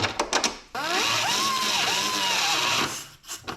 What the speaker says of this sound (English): Don't like drilling more, but I gotta elongate this one